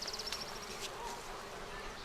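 Native bees buzzing close by, a steady insect drone with a few brief higher whines near the start, heard alone without talk.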